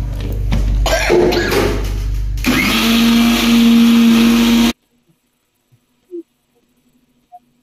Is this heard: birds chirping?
no